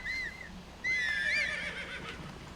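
A horse in a video game neighs in two bright, wavering whinnies, a short call followed by a longer, louder one, close and clear with no talk over it.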